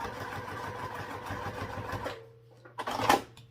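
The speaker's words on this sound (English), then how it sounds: "So for the top, we just want to top stitch it I'm going to do it at 3/8 inch" A sewing machine top stitches a bag pocket in a fast, even run of mechanical clatter for about two seconds, then stops, followed by a short burst of handling noise and a brief final whir.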